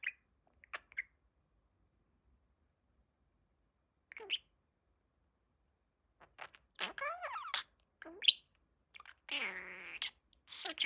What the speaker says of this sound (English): Such a good bird.